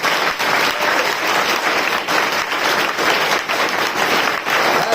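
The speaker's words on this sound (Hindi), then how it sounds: "जोरदार ताली बजा दे।" A church congregation applauds loudly during a Hindi-language sermon, with dense, sustained clapping that fills the whole stretch and no break or talk.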